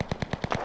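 Rapid automatic gunfire in the battle-royale game Cuisine Royale (CRSED), about six evenly spaced loud shots in quick succession, close and alone.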